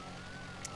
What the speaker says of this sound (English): You know, light sirens and everything else.